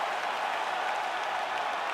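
Arena crowd in the UFC 5 fighting game cheering and applauding after a full-distance fight, a dense steady roar of claps and voices that holds at an even loud level throughout.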